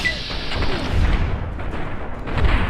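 Gunfire in Fallout New Vegas, a loud barrage of booming shots with rumbling impacts, layered in quick succession across a busy battle mix.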